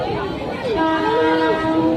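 Interior of a moving Bangaon local commuter train heading to Howrah, with a steady rumbling rail noise and shifting tonal whine throughout, close and continuous, with faint voices in the carriage.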